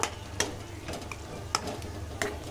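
A few scraping strokes stir and mash chicken in a pan as it cooks for chicken kosha, with a soft, steady sizzle underneath and about four distinct utensil knocks against the metal.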